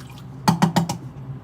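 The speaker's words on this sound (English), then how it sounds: "empty that distilled water into the sink" Distilled water from an arterial line task trainer empties into a sink in four quick gurgling glugs, close and moderately loud, without talk.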